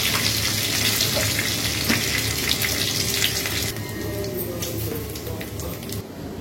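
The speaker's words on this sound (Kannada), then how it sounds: "ಈಗ ಕ್ರಷ್ ಮಾಡಿರೋ ಬೆಳ್ಳುಳ್ಳಿ ಹಾಕೊಂತಾ ಇದ್ದೀನಿ. ಸ್ವಲ್ಪ ಕಲರ್ ಚೇಂಜ್ ಆಗೋ ತನಕ ಫ್ರೈ ಮಾಡ್ಕೊಳ್ಳೋಣ" Crushed garlic fries in a pan with a dense, steady sizzling hiss close by, easing slightly in loudness partway through, with a few faint clinks.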